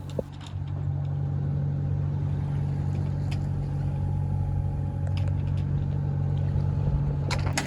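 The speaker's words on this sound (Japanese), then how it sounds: "この日もエンジンを使ってのスタートになりました。" A sailboat's auxiliary engine idles steadily on the open Pacific at the start of a day's sailing, a continuous low droning rumble with no talk and a few faint knocks above it.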